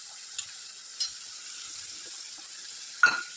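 Spice masala mixed with yogurt, cumin, coriander, turmeric and red chilli powder sizzles steadily in a pan while being stirred, with a few soft spoon taps and one sharper scrape near the end.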